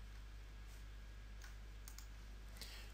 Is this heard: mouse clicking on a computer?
yes